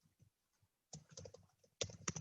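Someone types code on a computer keyboard with quick, close bursts of soft key clicks after a brief quiet stretch of faint tapping. The typing builds into two busy flurries.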